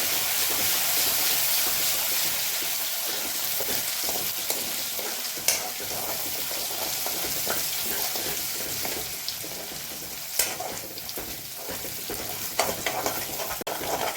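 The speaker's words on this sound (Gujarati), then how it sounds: "અડધી ચમચી આદુ લસ આદુ મરચાંની પેસ્ટ ઉમેરશું બધું આપણે થોડું સાંકળી લેવાનું છે" Ginger, garlic and chili paste sizzles and fries in a pan while it is stirred, giving a steady close hiss with occasional clinks and scrapes and no talk.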